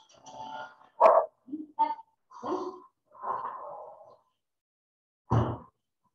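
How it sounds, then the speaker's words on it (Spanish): A female dog barking indoors after being left inside: several short, moderately faint barks and yips spaced irregularly, with a snort-like sound and a final sharp bark after a pause. No talking. "ahora tengo a la perra ladrando porque no la dejé afuera"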